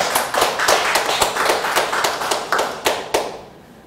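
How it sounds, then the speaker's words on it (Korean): A church congregation claps together during a Sunday worship service, a steady run of sharp, roughly rhythmic claps that fills the room, then thins and fades out near the end. "하나님께 영광의 박수를."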